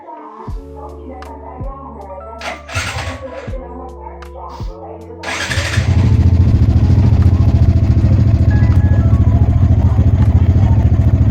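A motorcycle engine with freshly changed Motul oil is cranked a few times with sharp clattering turns, then fires up and settles into a loud, steady, close idle that runs to the end.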